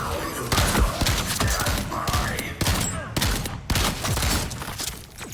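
Shotgun blasts from a video game fire in rapid, loud bursts, with heavy booming impacts packed closely together throughout.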